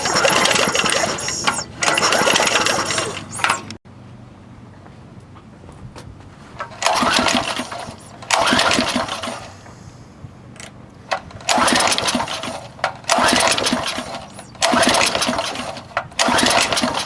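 An old Briggs engine fitted to a Rupp starts up repeatedly, catching and running loudly in bursts of a few seconds each, then dying back to quiet gaps between attempts.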